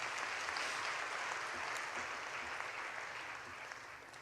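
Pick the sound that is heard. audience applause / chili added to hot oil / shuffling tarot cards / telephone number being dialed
audience applause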